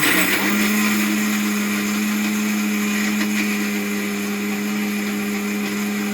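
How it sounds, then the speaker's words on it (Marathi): Kitchen mixer grinder pulverising roasted onion, coconut, garlic and ginger, a loud continuous high-pitched motor whine with a steady drone, running unbroken and close throughout. "तर हे सर्व जे आहे आपण मिक्सरला वाटून घेऊयात"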